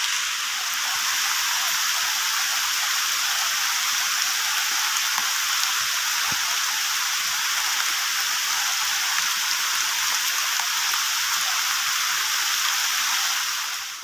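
Steady rain falls in a forest during a mushroom-gathering walk, a dense, even hiss of drops on leaves that holds constant throughout with no talking.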